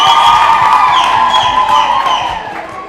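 Wedding guests clapping and cheering as the bride approaches, a loud, dense crowd wash with steady applause and voices under a singing, tonal melody.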